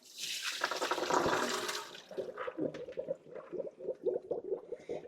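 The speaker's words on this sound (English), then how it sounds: "We're gonna rinse our bowl. And our corn." Water runs and splashes as nixtamalized corn is rinsed in a colander for homemade tortillas, a loud gushing rush at first that gives way to softer, irregular trickles and sloshing.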